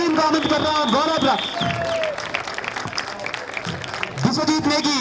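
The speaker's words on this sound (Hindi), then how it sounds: "जोरदार तालियों से पूरी टीम का आमंत्रित कर रहा हूं" Crowd applause welcoming Pauri United FC, winners of the Pauri Football Cup 2025 final in Uttarakhand, steady clapping sustained throughout under an announcer's voice and broadband crowd noise.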